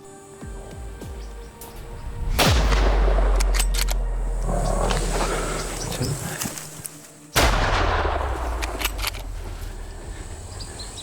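Two loud, close rifle shots fired at a lion during a hunt, each a sharp crack followed by a long booming echo that rolls away, with quiet sounds between them.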